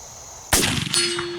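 An Armi San Marco 3rd Model Dragoon Buntline revolver with shoulder stock fires one sharp, loud shot. A moment later a bright metallic clang rings on as the bullet strikes a large steel plate target downrange.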